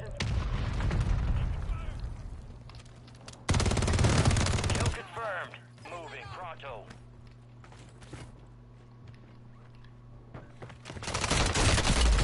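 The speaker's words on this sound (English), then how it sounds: "I don't even know where I'm getting shot from" Bursts of automatic gunfire in a shooter video game crackle loudly around 3.5–5 seconds and again near the end, with a steady hum and a voice talking in between.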